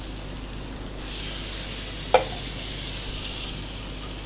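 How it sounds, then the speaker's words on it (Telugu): Pasta fries in a pan with a soft, even sizzle, interrupted once midway by a single sharp clink of a utensil against the pan. "బాగా ఇప్పుడు దాంట్లో వేసుకొని ఫ్రై చేసుకుందామండి"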